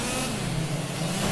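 Shifter kart engine in the Project Cars racing game, a steady mid-pitched buzzing drone held at high revs throughout, loud and continuous with no talk over it.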